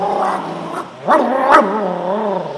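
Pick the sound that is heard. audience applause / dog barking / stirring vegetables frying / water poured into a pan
dog barking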